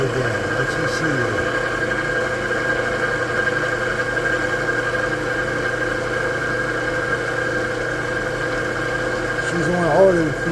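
Machining tool running on automatic feed in a machine shop, a steady mid-pitched motor hum with a constant drone and slight vibration, unchanging for the whole stretch.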